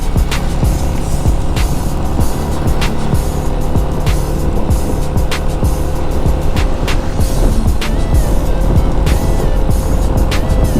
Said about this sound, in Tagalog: Ayan, siraan na yata yung truck.